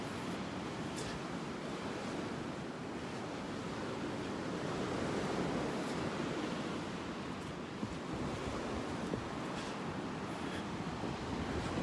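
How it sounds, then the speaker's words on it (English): Steady wind roars across an open beach at the pass in North Naples, Florida, blending with rolling surf into a dense, continuous broadband rush with faint gusty swells and no voices. "Here's where the wind kicks in"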